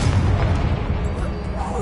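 A Confringo fire-blast spell explodes in Hogwarts Legacy, a heavy low boom and rumble that fills the moment, with a shouted voice over it.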